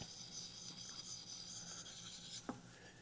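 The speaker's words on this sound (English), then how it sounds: "So the Wazoo sharpening stone works perfect." A knife blade is drawn across a small Wazoo Arkansas sharpening stone, making faint, steady rasping strokes close by, with a brief sharper scrape near the end.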